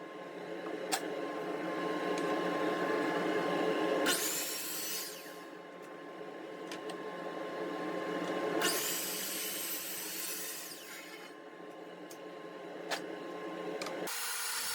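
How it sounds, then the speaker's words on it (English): A bandsaw cuts pieces of 3/4 inch wood, its motor humming steadily while two longer bursts of bright cutting noise rise and fall, heard fairly quietly with no talking. "And then it's on to the bandsaw to cut them out."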